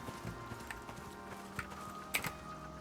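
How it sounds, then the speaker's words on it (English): A baby Tyrannus horse moves in the survival video game Icarus, its hooves giving faint, evenly spaced clip-clop steps over a soft game ambience, with one sharper knock near the end. "This is a Tyrannus baby horse."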